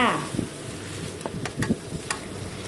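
Chicken offal stir-fries with bamboo shoots, dried chilies and soy-based seasonings, giving a steady soft sizzle with occasional clinks and scrapes from the spatula, heard fairly close and without talk.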